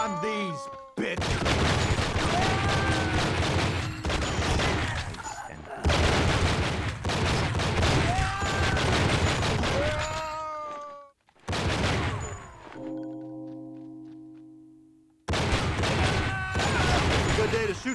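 Gunfire in the video game True Crime: Streets of LA comes as loud, dense rapid volleys that roar almost continuously, broken by a few short pauses and a brief stretch of quieter tonal game sound.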